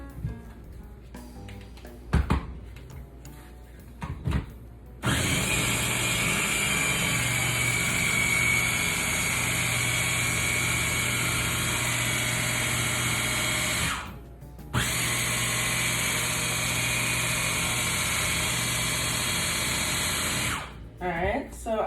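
A blender whirs through orange cake batter in two sustained bursts separated by a short pause, the loud, steady motor drone filling the room after a few scattered clatters.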